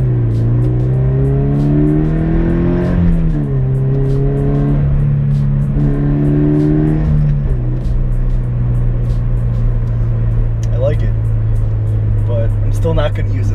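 A Subaru BRZ fitted with an exhaust silencer accelerates, engine note rising through the revs in pulls with brief shift dips, a steady muffled drone under road noise, close and loud.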